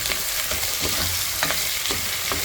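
Meat bones frying with onion, garlic and a little ginger in a hot pan, a continuous loud sizzle with repeated scraping strokes of a spoon stirring, close up and without talking.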